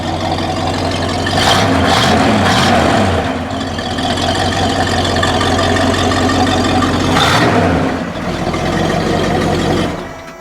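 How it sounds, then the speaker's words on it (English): A 1969 Buick GS engine rumbling nearby through a dual exhaust, with a couple of revving swells rising over a steady idle; no one speaks. "check out the dual exhaust system on this car"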